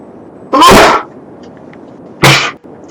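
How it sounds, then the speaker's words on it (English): A person sneezes twice, loud and close, with a short gap between the two sharp bursts, and no talking in between. "Excuse me a minute, I'm going to sneeze."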